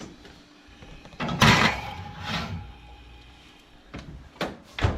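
A kitchen oven door shuts after a glazed onaga fish goes back inside, giving a few soft thuds and a sliding clunk near the middle, with quieter knocks toward the end.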